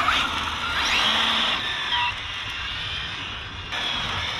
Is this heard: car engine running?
yes